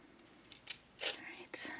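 Scissors or cutters snip a small metal link of a gemstone necklace chain, a few short, sharp clicks close by, quiet and isolated.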